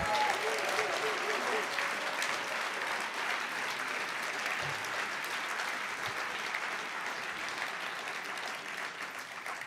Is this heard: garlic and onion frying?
no